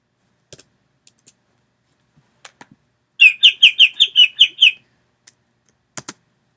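A quick chirping burst of about eight rapid, high tweets in a row, bright and close, with faint clicks scattered before and after.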